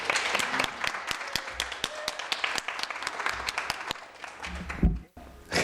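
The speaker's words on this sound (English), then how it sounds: "another round of applause to our speakers" Sparse audience clapping at an academic English studies conference session, individual sharp claps scattered in an irregular rhythm, thinning out, with a handling thump near the end.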